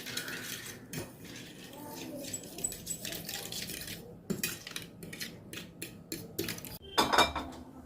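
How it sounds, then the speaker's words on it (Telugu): Utensils clink and scrape against a pan as a crispy children's snack mixture is stirred until it melts, with irregular metallic taps and clatter of moderate loudness and a sharper burst of clinks near the end. "ఈ విధంగా మంచిగా మెల్ట్ అయిపోయే వరకు మనం కలపాలి."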